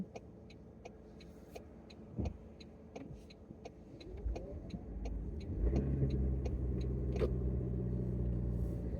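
A car moves along a narrow single-lane road in the US, a low engine rumble swelling as it picks up speed, with a steady ticking indicator-like click repeating over it.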